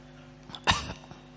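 A single short cough sounds close by against a quiet background hum.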